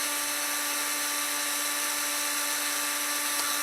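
A Milwaukee cordless drill runs at a steady high whine, close and continuous from start to finish with no change in pitch and no voices.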